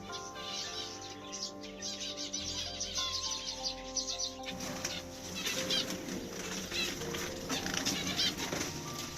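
Young finch flaps its wings clumsily as it takes its first flights near the nest, giving a soft fluttering whir over steady chirping from many finch chicks.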